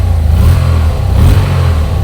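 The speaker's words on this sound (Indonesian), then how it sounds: "Memang ini belum diganti knalpot aja suaranya udah enak teman-teman." Yamaha TMAX two-cylinder maxi-scooter engine on its stock exhaust, revving steadily with a loud, deep, continuous throb and two slight swells, close by with no talk.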